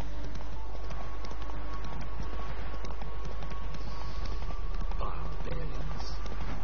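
Horse hooves clip-clop steadily in The Witcher 3 video game, a continuous rhythmic trotting under a constant background, with a voice faintly present.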